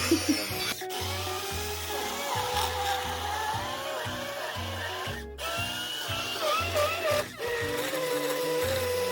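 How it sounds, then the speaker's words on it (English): Pea soup being whizzed in a blender, a close motor whir that cuts in and out in repeated bursts with shifting pitch as the contents churn, with pauses between pulses. "So after saying I wasn't going to use the blender, I'm of course using the blender."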